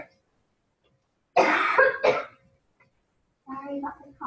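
A person coughs twice in a quick harsh burst in a quiet room during a teaching lesson, followed by a short throat-clearing sound a moment later.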